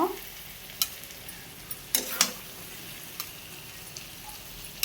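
Meat stir-fried kosha style in a pan for a meat curry, a soft low sizzle broken by a handful of sharp spatula scrapes and clicks, close up and fairly quiet, with no talking.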